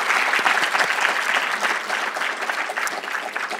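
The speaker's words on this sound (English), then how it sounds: "I want to give a warm welcome or warm applause for all of our honorees, our performers, and our panelists" A civil rights symposium audience gives warm, sustained applause for honorees, performers and panelists, an even wash of many hands clapping with no speech over it.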